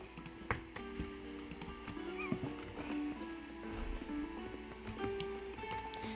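Horses in a wild horse video game clip-clop with irregular hoof taps and faint whinnies over a soft, continuous game ambience.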